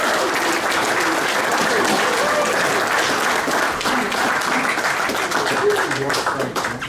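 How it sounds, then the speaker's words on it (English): An audience applauds state champion basketball team Royal Knights at a Pro Football Hall of Fame event, steady, loud and dense clapping that carries on throughout, with some crowd murmur underneath. "So big round of applause."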